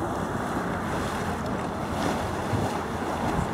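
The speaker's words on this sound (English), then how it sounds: "Steaming water coming out of the middle of the earth." Steady, loud rushing and hissing of water and steam from an erupting geyser at Yellowstone National Park, a continuous roar with gusty wind noise buffeting the microphone throughout.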